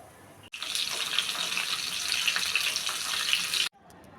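Tilapia fish pieces, rubbed with salt, turmeric, chili, ginger and garlic, frying in hot oil: a steady loud hissing sizzle that begins abruptly and stops abruptly about three seconds later.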